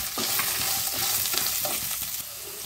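Whole spices dry-roasting in a pan for a pumpkin sambar with ground masala, a steady close sizzle and crackle with repeated scraping and stirring strokes throughout.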